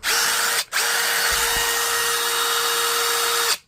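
A Dewalt cordless power tool, powered by a revived Dewalt battery, whirs steadily at close range with a brief stop and restart near the start, then runs continuously before cutting off.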